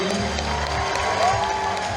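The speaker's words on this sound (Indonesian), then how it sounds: "Boleh tepuk tangan dulu dong buat kampus kita yang tercinta ini." A graduation-ceremony crowd at Gedung Sasana Kriya, Jakarta, cheers and claps in a continuous roar, with shouts and voices layered over the applause throughout.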